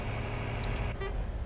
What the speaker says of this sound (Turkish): Korna tamam, EVR'nin sesi.